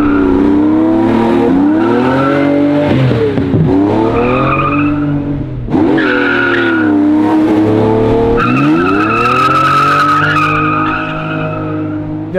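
A 500 hp 1969 Jaguar E-Type with a bored-out 5.7-litre V12 slides sideways, its tires squealing loudly in long wavering howls that rise and fall as the engine revs and drops, close and dominant with no talk.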